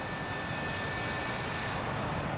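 Airplane engine in the combat flight simulator DCS World: a steady, close, vacuum-cleaner-like roar with a thin constant whine on top, running without a break and with no talking.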